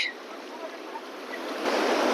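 River water flows in a Nepal river crossing, a continuous broad rushing wash that grows louder toward the end, with wind-like noise mixed in.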